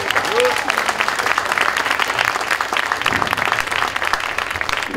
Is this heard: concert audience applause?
yes